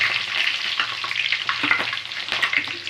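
Mustard seeds, cumin and green chillies fry in hot oil with a dense, crackling sizzle and quick popping spatters, steady and close throughout with no voices.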